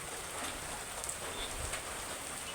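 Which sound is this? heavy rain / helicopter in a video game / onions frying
heavy rain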